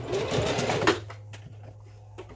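A sewing machine runs in a fast, steady stitching burst while sewing a closure wig, then stops abruptly about a second in, leaving a low motor hum and faint clicks.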